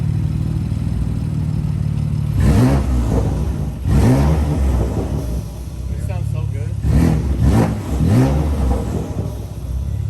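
A tuned BMW F80 M3 with a Bootmod3 Stage 2 burble tune revs in repeated bursts with a deep crackling exhaust burble, while people talk nearby.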